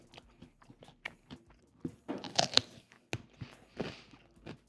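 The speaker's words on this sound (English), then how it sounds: "I feel like all you're getting is chewing." Crunchy food being chewed right at the microphone produces a run of sharp, close bites and crunches in an uneven rhythm, with louder crackling crunches near the middle.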